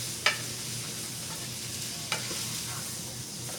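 Vegetables in a stir fry give a steady, close sizzle in a hot pan, with a couple of sharp clinks from stirring over the constant frying hiss and no talking.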